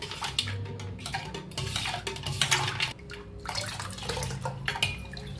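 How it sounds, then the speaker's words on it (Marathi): Ice is stirred into coriander-lemon pani puri water in a vessel, giving continuous sloshing along with clinking and scraping against the container, close and clear, with no voices. "अशी कोथांबीर रस अर्धा लिंबूचा रस घातला त्याच्यात बर्फ जरा मिक्स करून घेऊया आपण"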